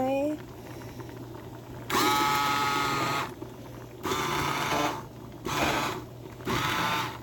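A food processor pulses garden salsa ingredients in four short, loud bursts of motor whir, separated by brief pauses of quieter background.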